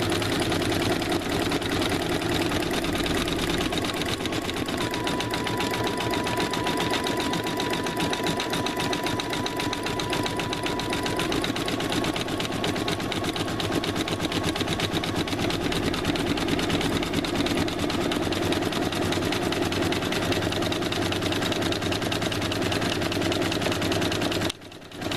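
A sewing machine stitches a custom tote bag in a long unbroken run, its fast mechanical chatter loud and close, holding a steady pace before stopping abruptly at the end.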